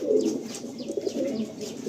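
Costly pigeons cooing softly and steadily at close range, a low throaty warble repeating without pause, with no talk over it.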